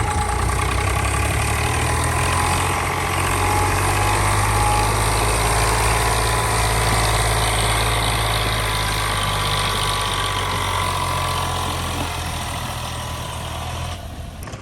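Mahindra Arjun NOVO 605 DI 4WD tractor engine running steadily while pulling a soil trolley, a loud, continuous low diesel rumble with mechanical vibration throughout, no speech.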